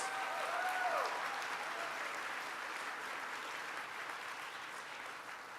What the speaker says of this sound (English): Let's give Christian a round of applause.